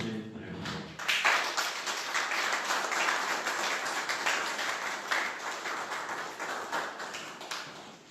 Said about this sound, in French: je voudrais vous demander d'applaudir très très fort